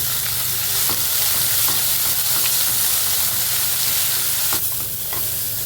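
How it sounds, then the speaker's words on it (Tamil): Onions sautéing in a pan with green chili, curry leaves, salt and turmeric for a Tamil tomato thokku, giving a steady close sizzle with soft stirring scrapes and no talk. "வெங்காயம் நல்லா வதங்கிடுச்சு"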